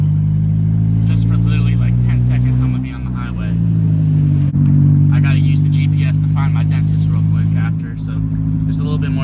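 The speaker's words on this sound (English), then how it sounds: "Driving, I'm gonna get on the highway real quick" A car cruises on a highway, its steady engine and road rumble loud and continuous throughout, with a brief dip midway and faint talk in the cabin.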